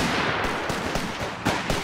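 Dense battlefield gunfire from Company of Heroes 3, with an Indian British forces army in a 2v2 match: continuous rattling shots and bursts layered thickly, with a few sharper nearby reports standing out.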